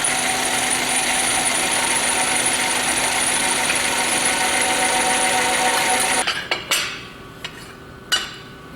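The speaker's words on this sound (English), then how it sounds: "I'm gonna center drill and then drill through these locations." A milling machine drills through metal with a steady high-pitched whine for several seconds, then cuts off, followed by a few sharp metallic clinks and knocks.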